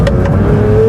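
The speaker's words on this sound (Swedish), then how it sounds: "Det låter som att motorn sitter i kupén." A Porsche 911 GT3 (992) engine droning loud and steady from close by, with a rising tone as it revs, heard alone without talk.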